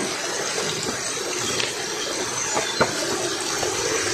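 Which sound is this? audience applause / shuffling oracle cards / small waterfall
small waterfall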